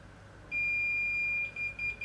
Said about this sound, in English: the sound beeper starts beeping because we're close to the zero angle